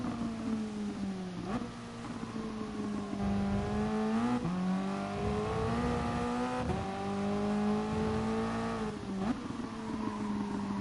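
A Toyota race car lapping the Catalunya circuit, a steady close engine drone from the cockpit with its pitch rising through the gears and dipping at several shifts, loud and continuous with no talk.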